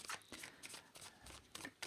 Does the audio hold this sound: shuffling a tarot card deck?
yes